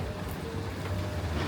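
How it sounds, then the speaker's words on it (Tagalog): Rain falls outdoors in Japan as a dense, steady hiss with a low rumble underneath, continuous and fairly close, with no talk. "Guys, umuulan."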